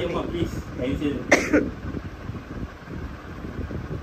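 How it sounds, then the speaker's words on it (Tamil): A single short cough or throat clear breaks through amid speech, followed by windy background noise and low rumbling. "ரொம்ப நேரம் பேசினாவே இருமல் வருது."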